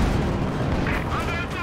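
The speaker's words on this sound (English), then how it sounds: "He's caught in the light artillery barrage somewhere." Artillery barrage in a Company of Heroes match, a dense, loud continuous rumble of overlapping blasts filling the short moment without a break.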